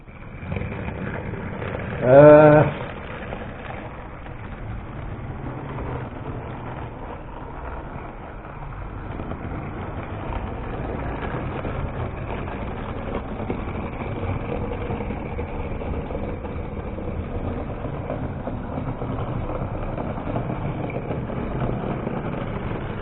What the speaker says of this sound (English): Let's see the train coming round here